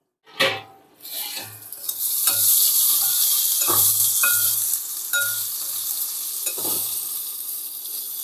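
Spices sizzle in hot tempering oil (phodni) in a pan for a Konkan stalk-vegetable (dethi) dish, a loud bright crackle throughout, punctuated by a string of metallic spoon scrapes and taps against the pan.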